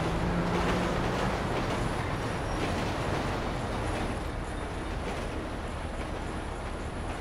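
A train rolls past in the video game GTA 5, giving a steady loud rumbling roar of wheels on rails with faint clatter, continuous throughout and without speech.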